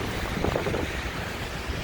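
Wind roars steadily through a Chicago street during a winter snowstorm, a dense, loud rushing noise buffeting the microphone throughout.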